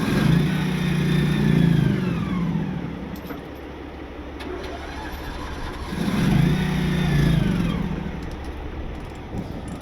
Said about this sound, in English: he's firing up an engine in the trailer here